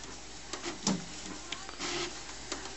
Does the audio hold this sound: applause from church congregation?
no